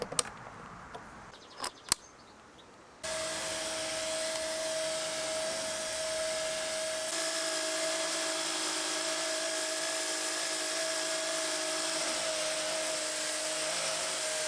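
A Bosch cordless pressure washer cleaning paving slabs behind a house starts after a few faint clicks, then runs as a steady, close whine with a constant tone. The motor hum thickens partway through and carries on unbroken.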